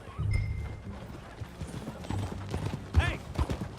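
Horse hooves clip-clopping in a steady rhythm while riding in the video game Red Dead Redemption 2, moderately close, with a short whinny and a voice heard partway through.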